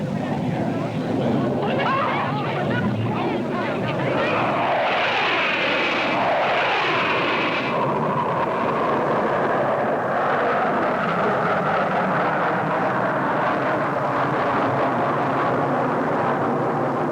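Blue Angels jet aircraft roar overhead in a sustained, loud rushing pass whose pitch sweeps downward as they go by, while someone narrates over it.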